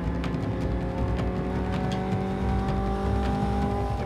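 A small sports car engine hums and drones steadily at close range, a constant throaty tone with road noise and no talking.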